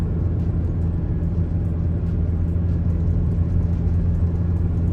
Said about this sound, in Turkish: Hatta biraz da zorlayalım. Motorun da sesini biraz daha görebilin.